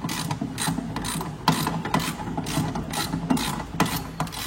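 Unscrewing an adjustable suspension collar on a BMW E36 to set ride height: a rapid, steady ratcheting clatter of metal clicks, close and loud, continuing without pause.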